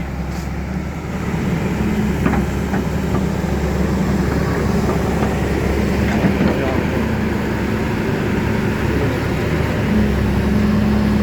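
A heavy excavator engine drones steadily and loudly throughout, a low rumbling machine sound with faint clanks and a voice or two partly buried beneath it.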